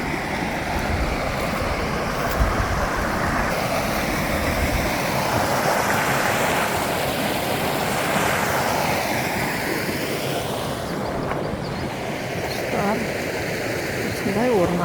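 A mountain spring stream flowing through a forest, heard as a steady, loud, broadband rush of water close by, mixed with some wind noise on the microphone.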